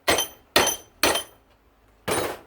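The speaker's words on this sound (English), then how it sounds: "I usually just pop them open with the hammer." A hammer popping open a scrap microwave motor: four sharp, loud metallic strikes close by, the first three in quick succession and the last after a short pause, each ringing briefly.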